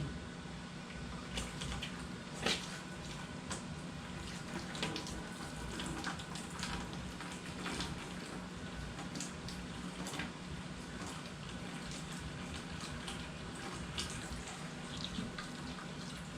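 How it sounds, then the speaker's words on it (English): Hot water runs steadily from a tap into a bucket during home beer brewing, a continuous broadband splashing rush at moderate, even level with no talking. "we got hot water running."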